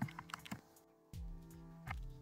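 Keys tapped on a computer keyboard while a search term is entered into a web browser, a few quiet, close clicks in irregular short bursts with brief pauses, and no voice.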